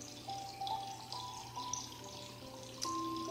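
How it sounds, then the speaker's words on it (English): Water falls steadily and softly, with faint trickling and a few drip-like tones over a constant low wash, played as a calming backdrop during a preschool Sunday school relaxation exercise. "Do you hear the water falling?"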